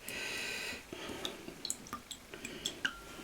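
Water drips from a soaked shaving brush in a series of small, irregular splats and patters, close and fairly quiet, following a short splash of running water at the start.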